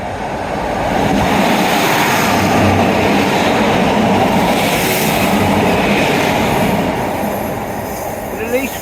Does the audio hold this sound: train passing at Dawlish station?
yes